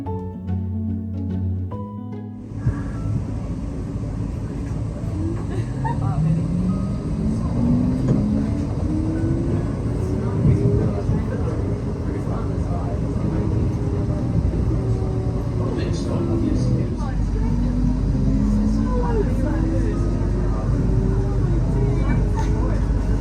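A city tram running with a steady low rumble and rolling rail noise, a rising and falling motor whine riding over it, heard from on board, loud and continuous throughout.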